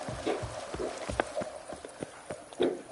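Rhythmic clip-clop of horse hooves galloping at a steady pace, fairly close, with no talking over it, from the video game The Witcher 3: Wild Hunt, Blood and Wine.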